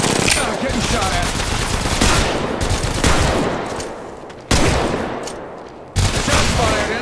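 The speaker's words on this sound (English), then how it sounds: "Shots fired, and they're hitting me." Automatic gunfire in the mobile battle royale game Apex Legends Mobile, loud dense bursts of rapid shots that continue for several seconds with abrupt restarts, close and dominant, with faint speech mixed in.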